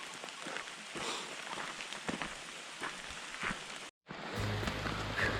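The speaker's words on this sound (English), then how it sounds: "Hasn't stopped raining." Rain falls steadily on a mountain section of the Pinhoti Trail, a soft patter with scattered drops. A brief silent gap is followed by a louder, fuller wash.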